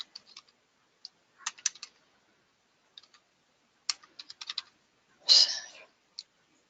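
Computer keyboard typing in short irregular bursts of clicks, close and fairly quiet, with pauses between words and a louder rustle near the end; no talking during it.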